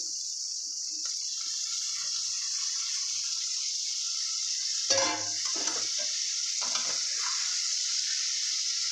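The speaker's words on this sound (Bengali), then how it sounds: "এই যে আমার পেঁয়াজ লঙ্কাটা কষানো হয়ে গেছে, এবার আমি মাছগুলোকে ছেড়ে দেবো।" Fish sliding into hot oil over sautéed onion and chili in a home kitchen pan for a spicy curry, giving a steady hissing sizzle with a brief louder burst of spitting partway through, then a few soft stirring scrapes.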